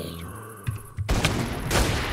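Gunfire from a gun in Minecraft, arriving as a sudden loud burst of repeated shots after a quieter start and continuing to the end, with another sharp report near the close.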